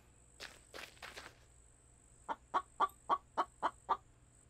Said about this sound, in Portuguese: galinha lazarenta.